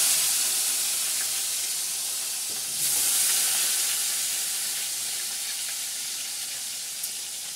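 Onions dropped into a hot frying pan of oil after fish has been fried, giving a steady close hiss of sizzling that swells briefly when they go in, then keeps frying evenly.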